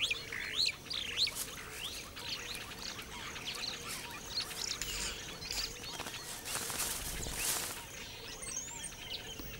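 Weaver birds in Eastern Africa give rapid, busy chirps and twittering calls, fairly faint against soft natural background noise.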